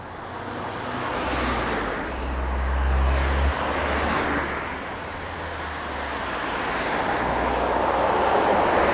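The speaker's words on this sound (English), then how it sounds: "I can hear traffic, so I just need to be careful for a second." Traffic on a busy road passes by, a continuous broadband roar with vehicles swelling closer and fading, plus a low rumbling engine nearby, loud and alone without voices.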